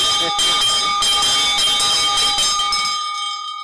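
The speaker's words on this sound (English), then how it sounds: "We ring the bell." A bell rung to call a parliamentary session to order, sounding bright, sustained metallic tones with repeated strikes for about three seconds before it fades.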